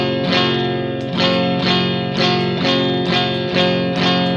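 Electric guitar through a Pure Sky overdrive pedal playing a repeating strummed chord pattern, about two strums per second, thick and slightly shimmering, loud and close with no voices.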